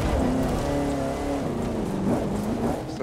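Car engine in the racing game The Crew 2 at Coney Island Beach, a continuous loud droning hum with shifting pitch, steady throughout with no talk.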